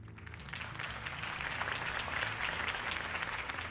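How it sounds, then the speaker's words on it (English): A crowd applauds loudly and continuously in the Batman Telltale video game, the clapping swelling slightly and holding steady throughout. "could have heard that applause"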